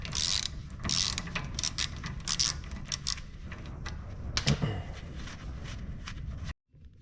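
A ratchet loosens a bolt on the trailing arm of a 1988–1991 Honda Civic EF hatchback, with repeated bursts of clicking pawl strokes and metallic handling close up, ending in sudden quiet.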